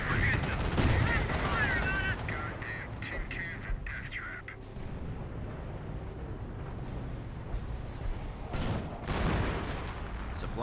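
Gunfire from a Company of Heroes 1 battle between Wehrmacht Grenadiers and a US rifle squad, with bursts of rifle and machine-gun fire crackling continuously under game effects.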